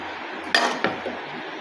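A spoon clinks against a bowl as pomegranate seeds and curry leaves are tipped into a chickpea salad: two sharp, close knocks a moment apart, then a softer tap.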